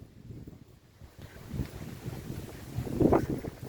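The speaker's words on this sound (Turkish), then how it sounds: "Şu an hava çok rüzgarlı." Strong wind buffets the microphone in rumbling gusts that swell and fade, growing louder toward the end.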